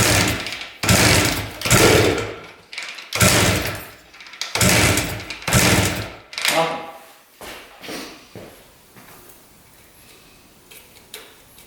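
A Harley-Davidson motorcycle engine is kick-started repeatedly, giving a series of loud sputtering bursts in an uneven rhythm as it tries to fire, followed by quieter clicks and rustling.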